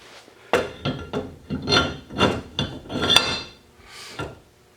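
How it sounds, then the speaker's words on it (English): A 92–93 Nissan 240 front brake rotor slides onto a Corolla hub, giving a string of short metallic scrapes and clunks that are close and moderately loud, with no talking. "it just slides right on there like it should"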